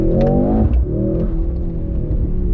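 A Mercedes-AMG GLC63 S E Performance engine roars and shifts pitch with whooshing, whistling turbo-like tones over a deep rumble, loud and close, fading slightly before surging again on a canyon road.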